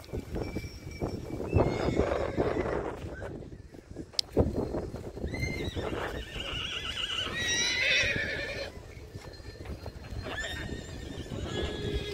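Horses at a Kutch horse race with Sindhi horses whinny loudly and repeatedly over clip-clopping hooves, with shrill high neighs rising and falling close by amid outdoor noise.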